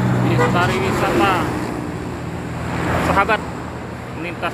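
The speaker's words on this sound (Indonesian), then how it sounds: "Dua bis pariwisata menuju kota Jogja" Two tour buses roll along the road toward Jogja, their engines and tyre noise forming a steady roadside roar with a few melodic horn-like tones rising over it.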